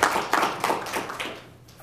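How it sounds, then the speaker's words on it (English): An audience breaks into applause at an academic talk, a short burst of clapping that fades over under two seconds. "You get applause already, and you haven't said anything."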